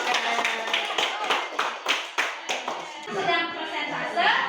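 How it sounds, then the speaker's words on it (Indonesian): Students in an Indonesian classroom clap together for a classmate, a run of sharp, close hand claps with children's voices mixing in and chatter rising toward the end. "beri tepuk tangan dulu dong"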